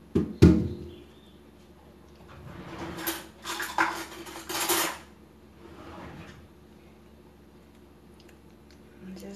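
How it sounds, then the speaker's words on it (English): A spoon scoops the flesh out of an avocado, giving a sharp clink followed by soft scraping and squishing passes at close range, with a quiet gap afterward. "Just gonna scoop it out like that."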